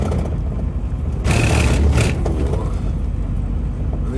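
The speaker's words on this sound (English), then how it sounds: "Let's go through the cattle grid." A van's engine rumbles steadily, broken by a loud, rattling clatter lasting about a second as the wheels roll over a metal cattle grid on a Peak District road.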